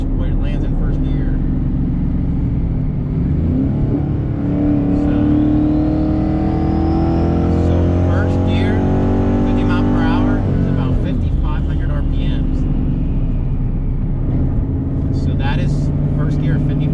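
A car with a PBH 4R200 automatic transmission accelerates hard to about 50 mph in first gear during roll racing. The engine note climbs steadily and loudly, close by, then drops sharply before settling into a lower drone.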